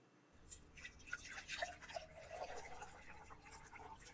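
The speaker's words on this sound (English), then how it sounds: "in goes the Wesson oil first." Wesson oil poured into a salad dressing mix, a soft close trickle and dribble lasting a few seconds at low volume.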